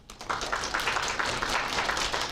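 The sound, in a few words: audience applause welcoming the speaker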